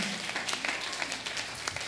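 Church congregation at a Sunday morning worship service claps hands together, a dense, brief patter of many palms at moderate loudness, slightly distant in a large room.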